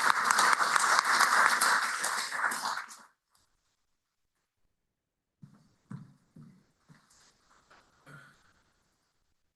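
Loud, steady applause from a conference audience welcoming a keynote speaker, a dense wash of clapping that fades out after about three seconds, followed by silence and then a few short, quiet sounds.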